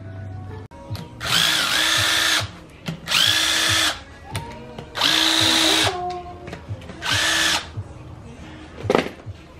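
A power tool whirs in four bursts of a second or so each, removing the differential cover bolts on a Nissan 350Z, with clanks and handling noise in the pauses between runs.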